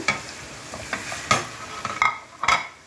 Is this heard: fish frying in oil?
yes